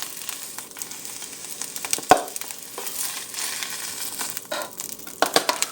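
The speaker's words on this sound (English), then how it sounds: "Just barely sauteing." Spinach sautés lightly in a pan, with a soft, uneven sizzle, crinkling leaves and occasional sharp clatters of a utensil against the pan, close by.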